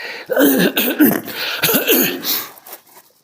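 A few harsh, hoarse coughs and throat-clearing bursts close up, one after another over about two seconds, then quiet.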